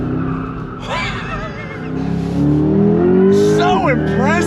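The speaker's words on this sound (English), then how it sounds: "A four-wheel drift in this thing." A 2024 Chevrolet C8 Corvette E-Ray in a four-wheel drift, its engine droning loud and steady with rising tyre squeal and revs near the end, while people talk and exclaim over it.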